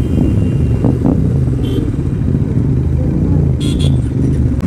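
A Yamaha R15 motorcycle ridden along a road at night with other bikes, its engine a steady loud rumble throughout, with a brief horn-like tone near the end.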